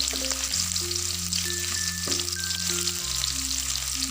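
Shallots frying in oil in a pan for a chayote and egg dish, an even, close hiss of sizzling with a faint occasional stir, while steady tonal hum and music-like tones sit underneath.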